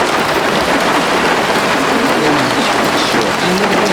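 Rain pouring down during an outdoor food-giving event for sadhus and Shiva devotees in Tiruvannamalai, a dense, even hiss of drops on surfaces, loud and steady throughout.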